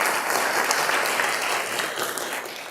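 Dense, sustained applause from the audience at a planning commission meeting fills the room evenly throughout, with no pause.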